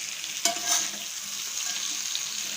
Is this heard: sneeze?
no